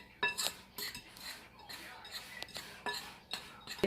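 A utensil scrapes and clinks against a bowl while mixing chocolate chip apple waffle batter, in irregular bursts of clatter with pauses between strokes.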